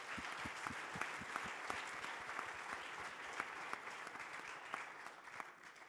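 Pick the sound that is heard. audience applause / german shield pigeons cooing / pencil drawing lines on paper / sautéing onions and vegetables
audience applause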